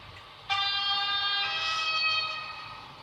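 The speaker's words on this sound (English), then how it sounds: "Yep, different sound from you get from an American train." A model European train on a hobby layout sounds a steady, tonal horn that starts abruptly and holds for about two and a half seconds before fading slightly, heard clearly over a quiet room.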